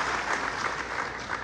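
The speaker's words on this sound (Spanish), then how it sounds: "Vamos a recibirle con un afectuoso aplauso." An audience at a municipal government report event applauds to welcome the labour secretary, a dense, steady wash of clapping heard up close and alone.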